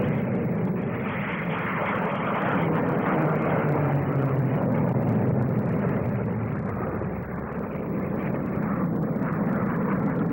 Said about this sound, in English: Sheer spectacle, the Navy's aerobatic team of Seahawks.